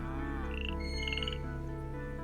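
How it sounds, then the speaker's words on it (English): A video game frog croaks in a short series of bright, squeaky chirps over a sustained musical backdrop, close and clear, with no talking. "caught the frog that went squeak"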